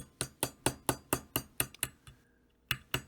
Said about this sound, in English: you have this sweet-ass nylon and rubber mallet hammer that I'm using to flatten out this little piece